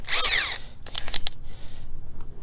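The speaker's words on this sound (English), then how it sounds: "I'm just going to follow up with the screw, and I got to switch the bit on my drill driver here" A close drill driver whirs in one short high-pitched burst driving a screw into a 1996 Jayco pop-up camper door, followed by a few quick clicks and brief stuttering pulses.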